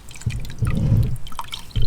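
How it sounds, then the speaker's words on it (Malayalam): Whey drips and trickles from a cloth while homemade paneer is strained, a close, fairly loud wet dribbling that pulses for a couple of seconds with no talking. "ഫുള്ള് അതിൽ നിന്ന് വെള്ളം പോണം."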